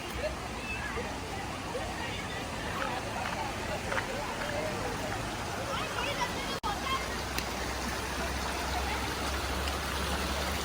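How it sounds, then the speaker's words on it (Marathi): Stream water flows steadily through the forest of Sanjay Gandhi National Park near the Kanheri Caves, a constant broadband rush that runs the whole clip with a voice talking over it. "पाहू शकता तुम्ही वाहतं पाणी इथे."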